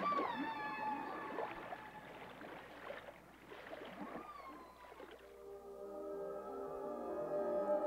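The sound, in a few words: humpback whale vocalization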